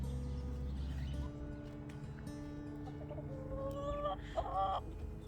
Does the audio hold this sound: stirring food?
no